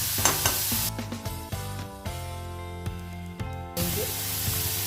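Spices and tomato sizzle in a pan for a soybean dish, with a steady hiss heard under prominent music. The frying noise thins while the music swells, then returns louder near the end.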